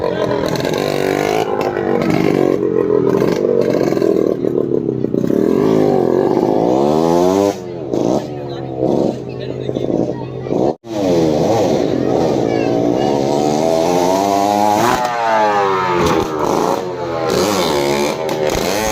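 A motorcycle engine revs hard at a circus motorbike jump show, loud and close, its pitch rising and falling in repeated sweeps almost without pause, broken only by one brief cutout midway.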